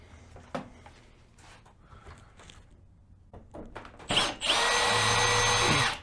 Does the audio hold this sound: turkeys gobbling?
no